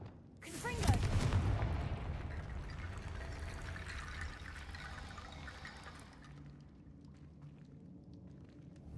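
Confringo fire spell cast in Hogwarts Legacy, a sudden whooshing blast with rumbling impact that trails off into a sustained hiss and rush of flames, heard close over quiet game ambience.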